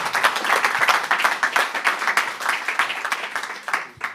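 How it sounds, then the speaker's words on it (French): At an inventors' prize ceremony, the audience claps for a Green Tech award winner. The applause is lively, with distinct individual claps pulsing through it, and it thins out toward the end. "Merci beaucoup, on peut l'applaudir."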